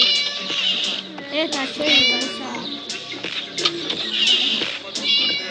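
A cartoonish cat meows repeatedly in the horror game Scary Teacher, loud and close, in bursts through the whole stretch while a young voice talks over it.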